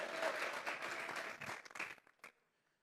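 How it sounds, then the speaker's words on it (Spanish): A church congregation at a Sunday service claps together as an offering to God, a dense burst of applause that fades out over about two seconds. "vamos a regalarle ofrenda de palmas al Dios de la gloria"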